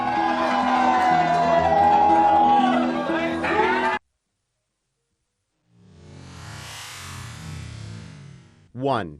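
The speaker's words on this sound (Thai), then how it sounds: "ท่ามกลางเสียงชัยโยโห่ร้องดังกึกก้องของนักท่องเที่ยว" After a narrator's voice and a short gap, tourists watching the Naga fireballs erupt in a distant, roaring wave of cheering and shouting that swells for a few seconds before fading.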